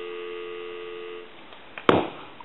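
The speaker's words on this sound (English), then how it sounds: "Give you some dial tone." A steady dial tone from a repaired three-slot payphone hums for over a second, then fades into quiet before a sharp click and a brief clatter.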